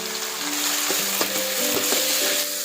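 Onion and tomato frying in a pan, a steady close sizzle with faint stirring clinks and scrapes over it.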